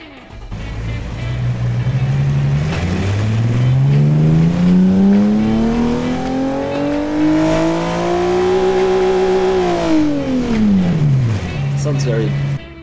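Engine of a Porsche 911-inspired Group B rally car in the Automation game revving loud and close, pitch climbing steadily through a long pull, then dropping back to idle, with faint talk beneath.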